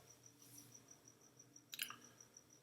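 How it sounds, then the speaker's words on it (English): Steady high-pitched insect chirping pulses regularly throughout, fairly quiet, with a brief louder rustle or click near the middle. "Yeah, that's loud. The crickets are loud."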